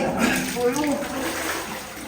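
Someone wades chest-deep through freezing water in a flooded 1700s mine, making close, continuous sloshing and swirling splashes, with a faint voice underneath.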